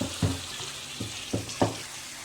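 Garlic and shallots sizzle in hot oil in a pan as they are sautéed for daging petis, a steady frying hiss broken by several sharp bursts of louder crackling as the mixture is stirred.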